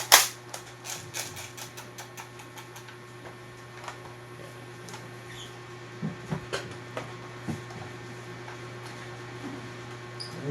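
A Golden Eagle airsoft rifle fires single shots during a muzzle velocity test, sharp close clicks and snaps spaced irregularly, with faint ticking beeps from a chronograph over a steady low electrical hum.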